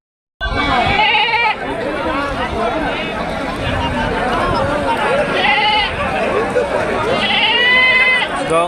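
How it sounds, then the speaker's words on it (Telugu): Many large goats and bucks bleat continuously at a crowded livestock market, loud and close, with overlapping calls and people chattering throughout. "పెద్ద సైజు మేకలు, మేకపోతులు ఇవి బాగానే ఉన్నాయి."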